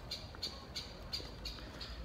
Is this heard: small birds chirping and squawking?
yes